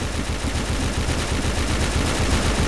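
Rapid automatic gunfire from a gun in the Roblox game Arsenal rattles on without a break, loud and dense, with no talking.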